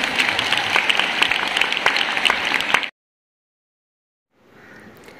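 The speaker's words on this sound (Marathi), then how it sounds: "पुन्हा एकदा सर्वांनी टाळ्या मारायच्या।" An audience claps together at a school felicitation ceremony honouring students, a steady, lively burst of applause that stops abruptly, then resumes faintly after a pause.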